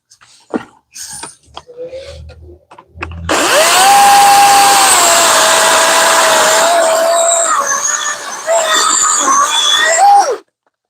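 A battery-powered DeWalt chainsaw revs up and cuts through wood with a loud, sustained buzzing roar for about seven seconds, pitch dipping under load before winding down, following a few brief knocks and noises.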